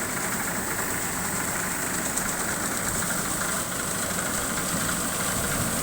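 A motorized cart engine idles steadily nearby during a paddy harvest in Birbhum, West Bengal, a continuous rumbling chug with no pauses.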